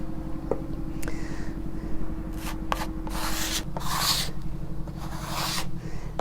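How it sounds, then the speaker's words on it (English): A steel trowel pulls Blendd cement thinly across tiles, giving a steady scraping rub throughout with a few brighter swipes, close and moderately loud, with no talking. "So I'm going to pull my product through as thinly as possible because I want maximum movement."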